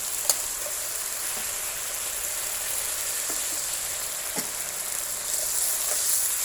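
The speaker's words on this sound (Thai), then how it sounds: "ใส่กระเพราลงไปผัด" Crispy pork stir-frying with holy basil in a hot pan, a continuous hissing sizzle with occasional sharp clicks of the utensil and a slight swell near the end, without speech.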